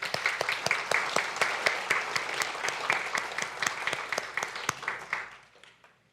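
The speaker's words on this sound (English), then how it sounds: "Let's give them a round of applause." Applause from a church congregation at a memorial service, a dense wash of claps that holds steady for about five seconds, then thins out and fades to silence.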